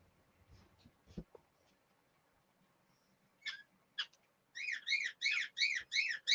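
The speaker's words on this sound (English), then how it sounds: "sorry about the noise of the bird" A pet bird whistles and chirps indoors, starting with a few scattered calls and then breaking into a loud, rapid run of repeated warbling chirps close by, with faint room noise beneath.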